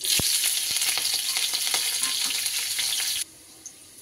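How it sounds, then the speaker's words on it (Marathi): Cumin seeds and green chillies sizzle in hot oil for a fasting-style potato dish, a close, bright crackling fry with sharp pops that cuts off abruptly near the end, leaving quiet, with no talking. "जिरे 1 चमचा, चांगलं तडकू द्यायचे। हिरवी मिरची 5 ते 6,"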